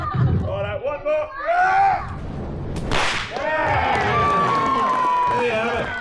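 A whip cracks sharply at an outdoor evening whip-cracking show, one loud snap cutting through a lively crowd murmur and voices, with people chattering and exclaiming around it.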